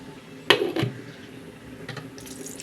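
Water poured from a glass onto soaked rice before grinding in a mixer, a short close splash and pour followed by quieter trickles and faint clinks.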